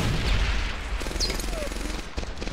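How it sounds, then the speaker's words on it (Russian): Grenade explosions in Medal of Honor: Airborne, heavy low blasts and rumbling booms mixed with scattered gunfire in a dense, loud battle soundscape. "у меня же есть гранаты, которые делают вот так"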